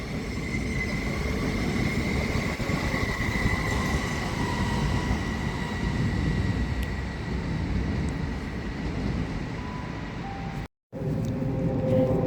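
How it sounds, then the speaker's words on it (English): A Great Western Railway class 387 electric multiple unit pulls into a station platform with a steady, loud rolling rumble and a faint wheel whine, briefly cut off near the end. "And coming in is 387 170, doing a Great Western Railway service to Swindon"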